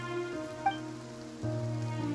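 Rain falls in the video game Genshin Impact as a steady, soft patter, with a low droning tone of game music or ambience underneath and no talking.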